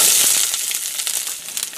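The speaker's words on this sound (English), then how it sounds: "drop my onions in there." Loud hiss and crackle of onions sizzling in hot oil in a frying pan, close up, with a burst of spattering at the start.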